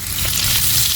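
Leftover roasted chicken sautés with butter and onion in a hot pan, a loud dense sizzle filling a brief moment with no talk.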